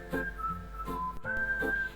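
Pressure cooker steaming carrots for carrot halwa gives off a faint, sharp whistling hiss in brief bursts, wavering in pitch, heard alone with no voices.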